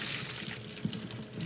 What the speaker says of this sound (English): So how I'm going to drain the rice